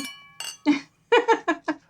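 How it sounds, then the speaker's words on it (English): Glasses clinking in a holiday toast, several short bright chimes with ringing overtones in quick succession, close and clear with no talk over them. "Insert glasses clinking sound."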